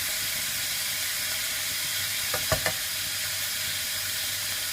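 Minced pork stir-frying in oil as the water cooks off, a steady close hiss of sizzling with a few brief scraping clinks partway through, no talking.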